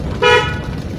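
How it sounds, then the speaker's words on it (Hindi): A single short car horn honk blares loudly and close, lasting a fraction of a second over low traffic rumble in Islamabad or Rawalpindi. "हॉर्न देना पड़ता है, भाई रुक जाओ।"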